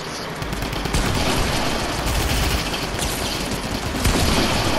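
Rapid, dense video game gunfire pours out loud and close as an unbroken barrage for several seconds, with a faint voice barely present underneath.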